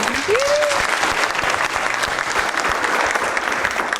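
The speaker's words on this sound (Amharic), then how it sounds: "አጨብጭቡላት" A crowd claps steadily and loudly for about four seconds, with a short rising whistle near the start.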